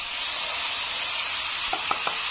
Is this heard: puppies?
no